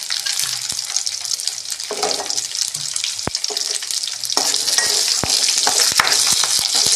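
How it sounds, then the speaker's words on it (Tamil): Garlic cloves and small shallot onions sauté in a hot pan for sundakai chutney, a steady broadband sizzle with bursts of stirring and several sharp utensil clicks against the pan, loud and close with no voices. "எல்லாம் சேர்த்து நல்லா வதக்கிக்கங்க"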